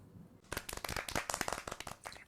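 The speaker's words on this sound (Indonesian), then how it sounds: "mari kita beri tepuk tangan untuk kita semua" After a quiet start, a classroom of students breaks into quick, scattered hand clapping, a fairly small group applauding in a brisk, uneven patter for nearly two seconds during a school lesson.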